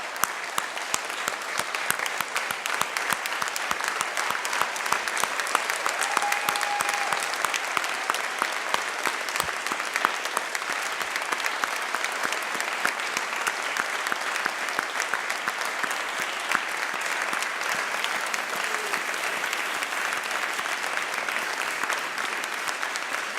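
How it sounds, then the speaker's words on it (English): A packed room gives graduates of an executive MBA class a long, sustained round of applause, loud continuous crowd clapping that stays even and unbroken throughout. "Please stand up so this time we can give you a round of applause."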